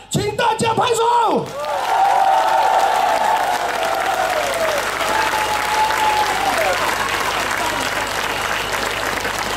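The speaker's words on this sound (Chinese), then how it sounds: "如果你们5月9号愿意看到 Tsunami Wanita 马来西亚出现第一个女副首相的，请大家拍手" A crowd at a coffee-shop political forum in Johor, Malaysia breaks into loud, sustained clapping after a sharp burst of noise, while a voice speaks over it through a microphone.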